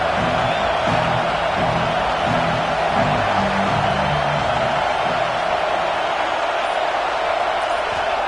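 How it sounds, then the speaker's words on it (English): A college football stadium crowd at Vanderbilt versus Tennessee roars in a dense, sustained wash of noise, loud and unbroken throughout, with indistinct voices mixed in. "The roar of the crowd trying to fuel this defense to keep them pinned in their own end."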